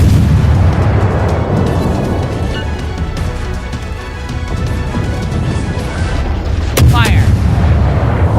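Warship guns firing in the World of Warships naval battle game, heavy booming blasts over a dense rumbling battle mix, with a sharp loud crack near the end, and a voice speaking.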